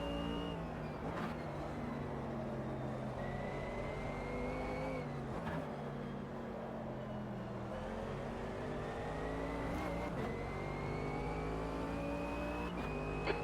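Race car engine in Automobilista 2, steady and loud, rising in pitch through the gears with short dips at each shift, accelerating out of corners with no break for the whole stretch.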